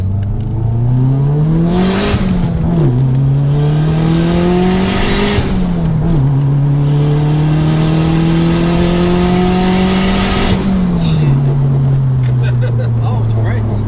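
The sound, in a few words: Toyota Celica GT-Four engine revving with screamer pipe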